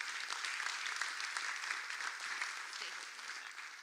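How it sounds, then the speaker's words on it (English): Steady round of applause from a crowd at a housing development industry forum, continuous and moderately distant, sustained throughout without a voice over it. "Another round of applause for these great guys."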